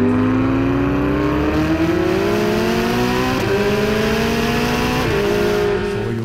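A Porsche and a Ferrari race closely in an animated street race, their engines loud and near, revving and rising in pitch together as they accelerate with occasional gear shifts, no voices.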